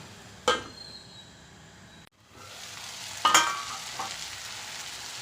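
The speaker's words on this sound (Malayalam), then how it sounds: "നമ്മുടെ തക്കാളി വഴന്നു വരുന്നുണ്ട്." Tomatoes for chutney sauté in a pan with a soft, low sizzle, punctuated by a couple of sharp utensil knocks against the pan, one early and one later.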